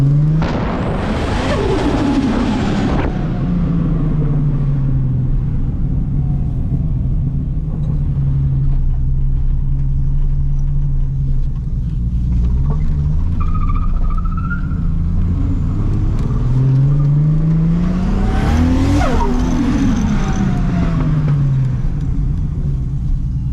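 A small-turbo Nissan Skyline R31 engine revs up in a car park, rising in pitch twice with a loud, near rumble and a brief swell of turbo noise between, heard alone without talk.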